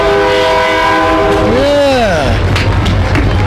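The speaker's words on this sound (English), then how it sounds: "The train comes through right at this time." A train rolls past during a street parade, sounding a long loud horn that holds then bends downward, over steady rumbling crowd and rail noise.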